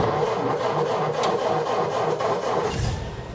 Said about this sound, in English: Keep your foot on the starter pedal until it actually starts.